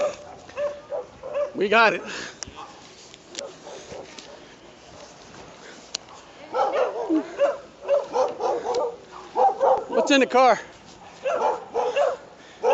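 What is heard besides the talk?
police dog barking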